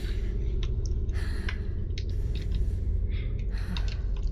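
Heavy, steady breathing from a character in the horror game Fear The Spotlight, sustained and close, with faint higher clicks and rustles scattered over it and no talking.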